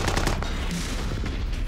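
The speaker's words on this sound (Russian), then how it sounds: "Дрон, который мчится вперед, несмотря на выстрелы вокруг" Bursts of machine-gun fire crackle around an attacking naval sea drone at sea, a quick rattle of shots at the start followed by scattered reports over a rough, noisy rushing background.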